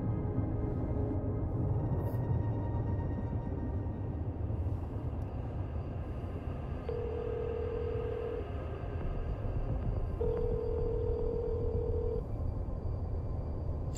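In the Late Shift video game, a telephone rings in two long electronic tones over a low rumbling background, moderately clear and with no speech.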